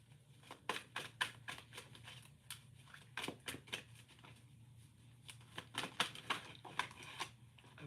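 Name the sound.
shuffling a deck of cards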